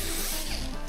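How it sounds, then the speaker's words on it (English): A wire wheel spins at high speed while cleaning axle parts from a Barnes 4-wheel drive build, giving a steady, loud, close abrasive hiss with a rough grinding edge throughout, and no talk over it. "Uh-oh, runaway wire wheel."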